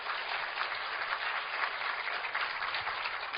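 A church congregation claps together in steady, dense applause that holds at an even level throughout, with no voices rising above it.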